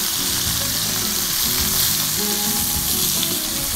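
Shrimp sauteing in a skillet, a loud, dense, continuous sizzle with crackling and a rumbling spatter underneath, close by and without any voices.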